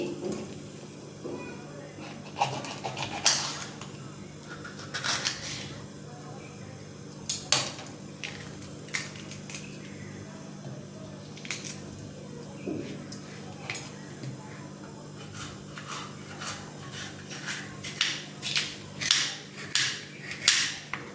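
A knife chops capsicum finely on a board, a series of sharp, close taps in irregular bursts, some quick and clustered, others spaced apart, with a steady low hum in the background.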